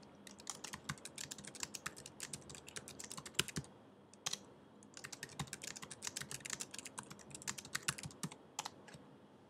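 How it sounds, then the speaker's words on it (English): Fingers typing text on a computer keyboard, a quick irregular run of crisp key clicks in bursts with brief pauses, close and fairly quiet. "Type your text pressing Return when you want to create the next item in the list."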